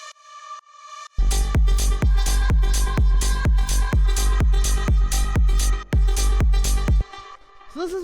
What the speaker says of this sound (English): After that, we've got the pad, which only plays in the second half here, and it sounds like this.